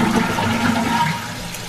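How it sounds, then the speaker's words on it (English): A toilet in a small home bathroom flushes with a close, full rush of water that begins to ease off toward the end. "when you flush the toilet"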